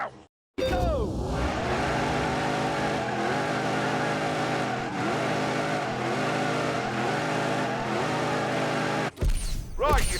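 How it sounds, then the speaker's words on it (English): A Dodge Demon does a tyre burnout in The Grand Tour Game, a loud, sustained engine roar at high revs that runs for about nine seconds before cutting off into a brief burst of noise. "that was just a celebratory burnout"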